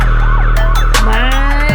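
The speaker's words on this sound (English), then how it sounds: "Cue the sirens." A loud emergency siren wails and sweeps up and down in pitch, filling a short burst of sound with no talking.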